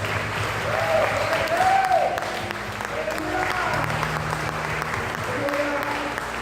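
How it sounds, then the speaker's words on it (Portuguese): A church congregation claps steadily through a continuous murmur of voices, with singing or sustained vocal tones rising and falling over the applause. "Pode aplaudir o Senhor mais uma vez."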